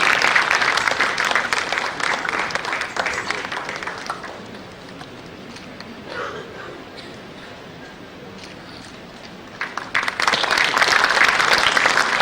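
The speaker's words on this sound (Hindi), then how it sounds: "जोरदार तालियां" An audience applauds the writer-director after a stage performance in Jaipur. Loud, crisp clapping opens the clip, thins to a softer patter with some murmuring, then surges back to full applause near the end.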